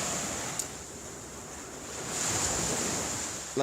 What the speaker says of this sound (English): that's the sound of the sea.